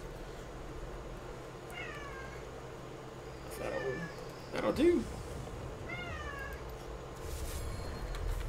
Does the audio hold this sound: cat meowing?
yes